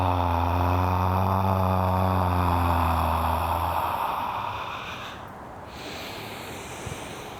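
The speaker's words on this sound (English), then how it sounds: "You're going to exhale through the mouth." A long exhale through the mouth during qigong practice, a soft breathy rush that follows a sustained low humming tone and then tails off quietly.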